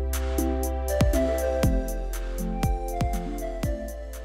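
Beginner electronic beat made in Ableton Live 11 plays with deep sustained bass and regular punchy kick hits, its level holding fairly steady and easing only slightly toward the end.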